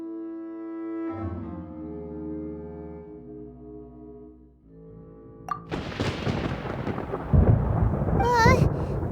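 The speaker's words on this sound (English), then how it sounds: "Paimon hears thunder!" Thunder in the video game Genshin Impact: after a quiet tonal music passage, a sudden crack breaks into a loud, sustained rumbling roll with rain-like hiss, ending in a bright sizzling burst.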